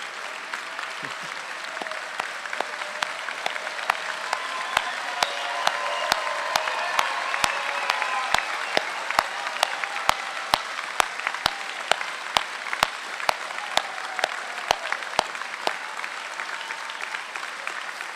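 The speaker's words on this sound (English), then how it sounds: "Graduates, you are getting a standing ovation behind you." Sustained applause from a commencement audience giving law graduates a standing ovation: dense, steady clapping with crisp individual claps standing out, lasting the whole stretch without pause.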